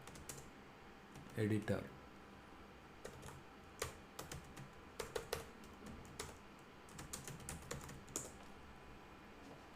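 Close, quiet keystrokes on a computer keyboard come in irregular bursts and single clicks, with a brief louder flurry near the start and someone speaking softly at one point.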